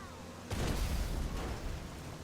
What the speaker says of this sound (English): let's go outside and test the explosive slugs